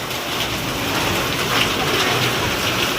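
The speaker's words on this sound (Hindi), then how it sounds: "बारिश आ रही है वो भी बहुत तेज।" Heavy storm rain pours down in a steady, dense, loud hiss without break, with no voices over it.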